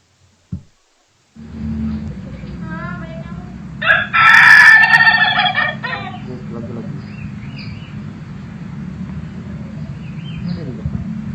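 A rooster crows once, loud and close, over a steady low hum after a brief knock and a moment of silence.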